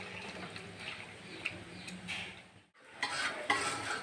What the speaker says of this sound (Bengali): চিকেনটাকে আবার একবার নেড়ে দিচ্ছে